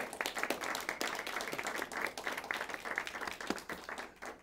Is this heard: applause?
yes